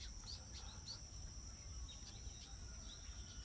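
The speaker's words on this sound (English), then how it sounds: "Chicks chirping." Chirping of chicks, likely of the Western plantain-eater, sounds among outdoor morning birdsong and insect buzz, with repeated high thin calls over a steady low rumble.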